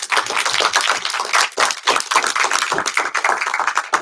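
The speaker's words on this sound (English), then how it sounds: "Big round of applause, everyone." An audience at a startup demo night gives a round of applause, close and dense hand-clapping that swells and dips in uneven waves for a few seconds.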